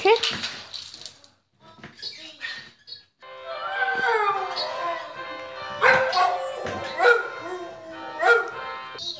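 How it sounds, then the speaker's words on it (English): Indoor dog giving a series of yips, whimpers and barks in bursts, close and fairly loud, with a person talking in the background. "What is this dog doing?"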